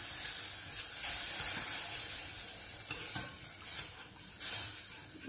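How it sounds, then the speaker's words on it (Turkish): Water poured gradually into a pot of flour soup for babies while it is stirred, giving a steady close hiss and soft sloshing with brief louder splashes, and no voices. "Ve şimdi suyumu azar azar ilave ediyorum"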